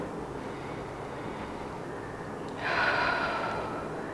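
Breathing during a yoga sun salutation posture: a quiet, steady stretch followed by one audible breath near the end that lingers briefly before fading.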